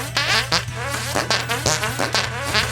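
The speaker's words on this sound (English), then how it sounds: "best menu ever, just for fart noises." Synthesized fart noises play from the menu of the video game Space Cows, a quick string of short blurting bursts repeating roughly every half second, loud and close with no talking.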